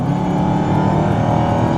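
A Dodge Charger Hellcat revs its engine in a loud, steady, close roar with rich low harmonics and no talk.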